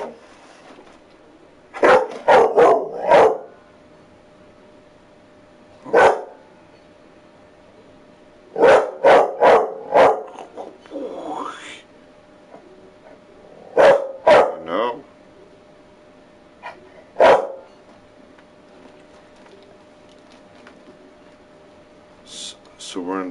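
Dogs hanging out with their owner in a basement room bark in scattered bursts, with single woofs and quick clusters of yips spaced across a quiet background, close and fairly loud.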